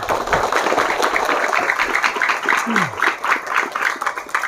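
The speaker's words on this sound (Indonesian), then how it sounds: "tepuk tangan untuk anak kita dulu" Audience applause for a child who answered a question during an Islamic religious talk, a steady, fairly loud wash of clapping sustained throughout.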